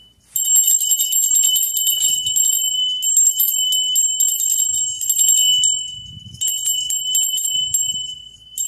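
A hand bell rings loud and close in bright, sustained bursts, shaking almost continuously for several seconds with a couple of brief pauses in between.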